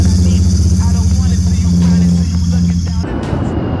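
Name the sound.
GT 650 motorcycle engine starting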